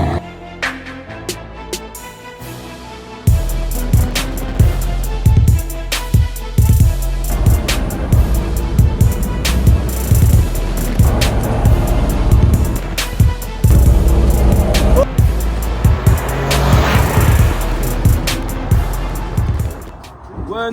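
A BMW X2 drives on the road, its engine and tyre noise a steady rumble with a sharper swell at the start and bursts of clicking and knocking throughout, people talking over it.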